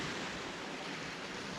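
Steady broadband surf washing onto a beach, a continuous rushing roar with slight swells in intensity, fairly close and unbroken, with no voices.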